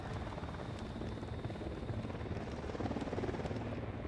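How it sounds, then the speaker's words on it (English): A helicopter in the video game Ghost Recon Wildlands sounds from a distance, its rotor chop a continuous low throbbing roar that holds fairly steady and faint across the moment. "Chopper incoming."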